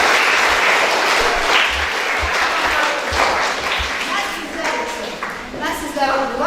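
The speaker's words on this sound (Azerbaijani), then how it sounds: "Mən alqış istəyirəm o qəhrəmanlara ki" Applause from a school audience at a memorial gathering for a fallen scout, a broad steady wash of clapping that holds through the whole stretch and thins slightly near the end, with voices mixed in.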